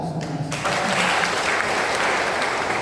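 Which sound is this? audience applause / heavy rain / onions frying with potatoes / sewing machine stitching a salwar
audience applause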